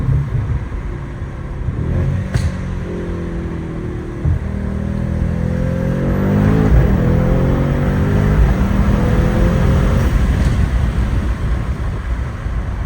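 A 650 hp Mercedes-AMG GT63s pulls hard on an empty city road, its engine note climbing steadily and loud inside the cabin as the car accelerates, with a deep rumble building under the rising tone.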